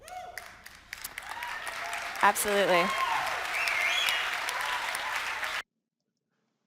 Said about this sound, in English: And they applaud and they should.